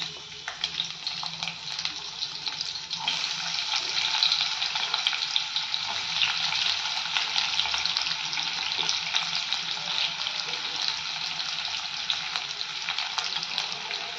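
Onions frying in oil in a pan after cumin, a steady bright crackling sizzle that holds loud and even throughout, with no talk.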